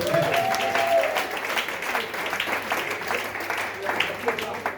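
A church congregation bursts into sustained applause and clapping during a worship service, a dense, steady wash of many hands with a voice briefly rising over it at the start.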